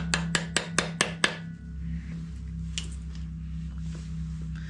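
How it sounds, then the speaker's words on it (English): A quick run of six light, sharp taps from a small plastic hammer, evenly spaced, followed by one more tap after a pause over a low hum, while installing a crankshaft in an LS4 engine. "just a little plastic hammer, and I'll just tap them in"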